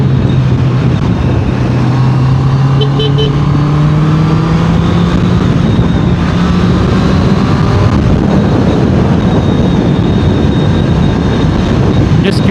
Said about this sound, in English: And the exhaust note is pure music to the ear.